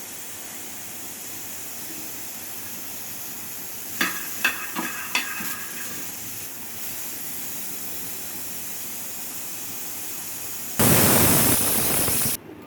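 Steam hisses out of a covered cooking pot of simmering vegetable pieces in a brief, loud burst near the end, after a quiet stretch broken by a few light clinks.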